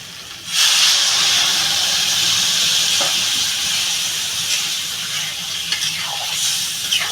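Water splashes into a hot pan of Bengali shukto curry with turmeric and erupts into a loud, sustained steamy hiss that holds steady and then eases slightly, with a few faint clinks near the end.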